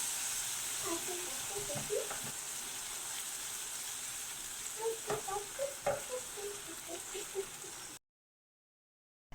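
Ginger garlic paste frying with onions makes a soft hiss with scattered small pops and stirring clicks, fairly faint, ending abruptly in silence.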